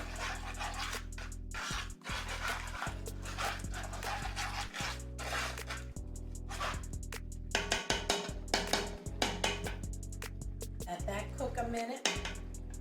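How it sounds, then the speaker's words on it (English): Parmesan cheese being stirred into a creamy shrimp pasta sauce in a pot, with steady scraping and soft utensil clinks against cookware, a few sharper taps near the end, under faint background music. "You want to stir this in carefully because you need it to cook. You need it to melt. Just keep stirring."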